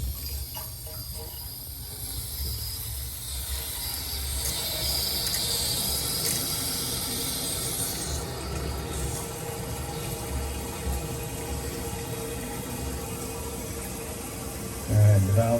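Water rushes under pressure into the supply line of a Brondell bidet toilet seat after its valve is opened, a steady hiss lasting throughout with a brief thump near the end.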